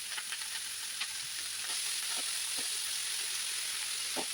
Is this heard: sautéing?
yes